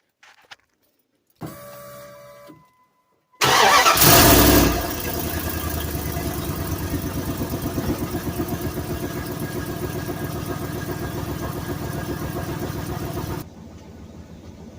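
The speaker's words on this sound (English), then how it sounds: "I'm going to start the truck, and we're going to see just how quiet it is" A 1998 Ram 1500 truck fitted with a new muffler cranks briefly, catches with a loud surge, then settles into a steady, even idle that runs on for about ten seconds before cutting off, with no talking.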